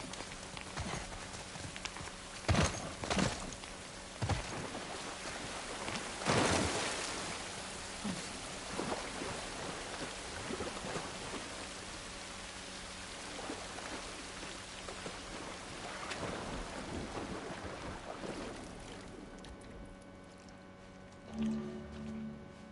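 Steady rain patters in The Last of Us video game, with occasional heavier thumps and crackles over the downpour before it thins out near the end.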